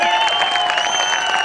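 A crowd claps loudly and steadily at an IndusViva business presentation, dense applause under a bright tonal music bed for about a second and a half.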